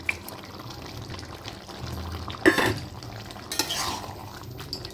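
Prawns stirred into a bottle gourd curry, with scraping spoon strokes against the pan over a low sizzle and a couple of sharper clattering bursts midway.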